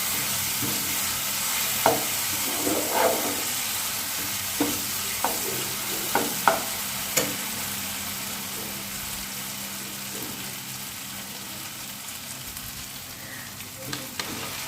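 Chicken pieces for chicken chaap frying in a pan, a steady broadband sizzle with scattered sharp pops and a few stirring scrapes, fairly close and continuous with no voices.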